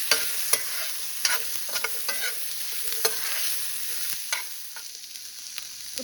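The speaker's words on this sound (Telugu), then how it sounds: "ఇప్పుడు కట్ చేసుకున్న ఉల్లిపాయలు వేసుకుని ఒక 2 నిమిషాలు వేపుకోవాలి." Chopped onions frying in a pan with garlic cloves, a continuous sizzle broken by repeated scraping stirs and light clicks of a spatula, close and steady, no speech.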